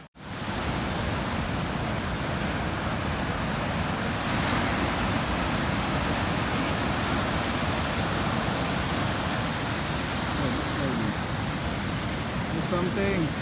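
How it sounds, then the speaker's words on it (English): Ocean waves at low tide on Dreamland Beach, Bali, a steady broad roar of surf breaking continuously, fairly distant and even throughout, with no clear talk over it. "so many waves."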